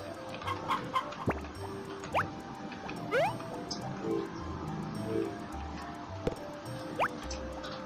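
Chickens in the Harvest Moon farming game cluck in short, repeated chirps over a busy bed of game music and small effects, moderately loud and scattered across the whole stretch.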